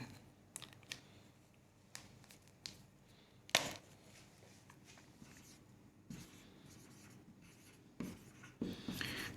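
Chalk or marker writing on a board in a classroom, with quiet intermittent scratching strokes and occasional sharper taps, faint and slightly distant, with no talking.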